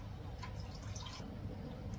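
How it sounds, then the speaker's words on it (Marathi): Water trickling and dripping into a bowl of smooth batter for cheese pasta, a steady, soft liquid pour close by with faint splashes and no talk. "आता याच्यामध्ये मी पाणी ऍड करते."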